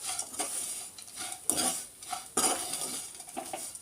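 Kakarakaya (bitter gourd) fry being stirred in a pan, with a spoon scraping and clinking against the metal and a faint sizzle underneath, close and fairly quiet, with no voices.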